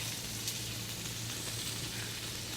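Bacon sizzling and frying steadily in a pan on a home stove, a constant close crackle with no talk.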